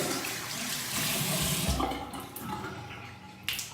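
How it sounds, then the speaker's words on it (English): Water being worked with a cotton pad for makeup removal: a close, steady wash of dipping and squeezing, swelling briefly in the middle, with no talking. "you need to dip it in warm water and squeeze it"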